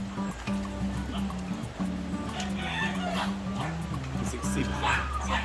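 A dog barks and yips intermittently amid busy background noise, with people talking nearby and a rooster-like clucking mixed in, in the Philippines.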